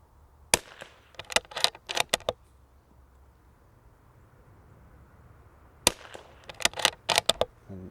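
Quiet .22LR rifle shots, each a short sharp crack, fired in two separate volleys of about six rounds each with a pause between; outdoors at a range, no talking.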